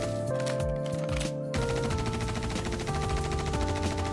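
A P4 rifle fired from the hip in Star Citizen lets out a fast, unbroken stream of loud automatic shots, close and steady throughout with no talk.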